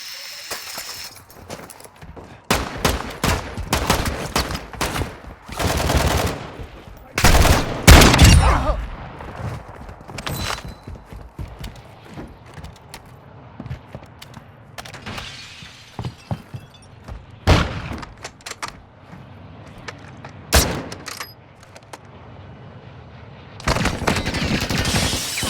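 Gunfire in Call of Duty Modern Warfare II, with dense automatic bursts and single shots, impacts and thuds, loud and near, coming in waves across the whole stretch.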